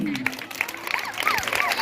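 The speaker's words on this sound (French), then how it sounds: "Madame Nyomagnon, on applaudit, hein?" Students and staff applaud a teacher at a lycée academic day in Agboville, scattered clapping from a crowd with voices talking and calling over it.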